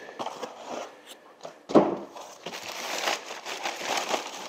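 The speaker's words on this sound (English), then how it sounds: "plastic bag." Plastic bag crinkling while unboxing a Bluetti B300K power station, with a sharp crinkle burst near the middle amid soft handling rustles, close and fairly quiet.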